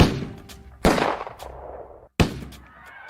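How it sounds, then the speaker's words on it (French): Three sharp, loud gunshots, spaced more than a second apart, each with a long ringing echo that trails away, in Rome. "Soudain, 3 coups de feu."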